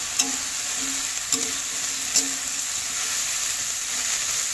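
Watermelon rind curry simmers and sizzles steadily in a pan while a spoon stirs it, giving three distinct scraping clinks over a constant hiss.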